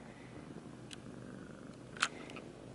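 A cat purrs softly and steadily up close in a quiet home, with a couple of faint clicks and small sounds over the low rumble and no talking.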